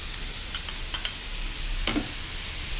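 Tomatoes stir-fried in a pan with ridge gourd and mushroom curry, a steady soft sizzle broken by a few short scraping stirs of the spatula, close by with no talking.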